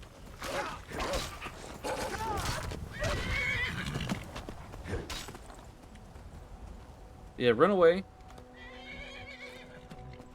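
Hooves clip-clop beneath ongoing talk, then a horse in a video game gives a loud, shaky whinny near the end, followed by faint sustained tones.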